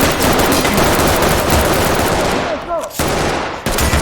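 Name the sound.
gunfire in the video game Ready or Not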